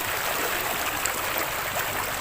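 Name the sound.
flowing river water at Daraitan river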